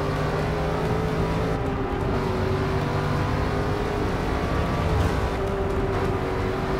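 Race car in Forza Motorsport 6 holding a loud, continuous engine roar as it accelerates, steady and close throughout with no speech over it.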